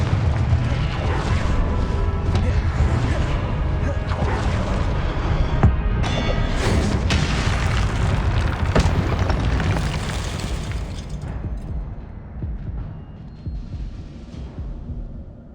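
Confringo explosion spell in Hogwarts Legacy, a heavy booming blast with crackling rumble that sustains loudly, then fades toward the end, with no talking.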